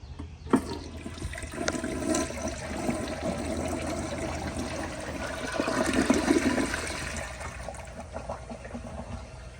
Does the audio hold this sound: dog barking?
no